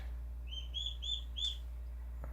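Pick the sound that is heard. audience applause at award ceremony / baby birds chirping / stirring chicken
baby birds chirping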